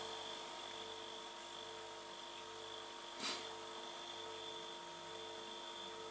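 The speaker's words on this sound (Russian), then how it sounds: "вы слышите, наверное, как работает холодильник?" A steady low mechanical hum with faint tonal whine drones on continuously, like a refrigerator compressor running, with one brief click midway.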